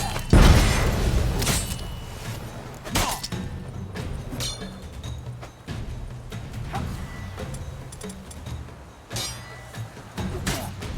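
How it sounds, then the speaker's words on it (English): A thrown bomb explodes in The Witcher 3 combat, an opening heavy boom followed by scattered thuds, whacks and impacts amid battle clatter, fairly loud and close. "Throw a bomb."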